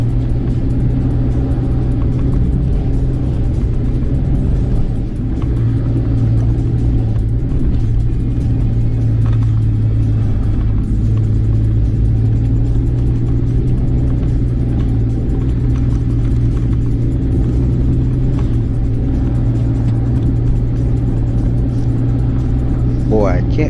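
A Ford Explorer Sport pushes hard through soft, dry beach sand on Pirelli tires, its engine holding a steady, loud, close rumble and drone throughout with no clear pauses.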